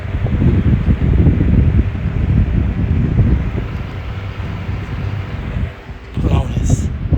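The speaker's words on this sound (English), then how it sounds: "2 fans running at work." Two high-velocity fans run at work, producing a loud, steady broadband whoosh of rushing air that dips briefly near the end before returning.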